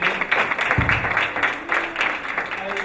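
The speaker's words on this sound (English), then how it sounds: "another round of applause for our moderator," An audience at a panel session applauds the moderator, a short burst of clapping that swells and stays fairly loud, with a brief thump near the start and voices faintly underneath.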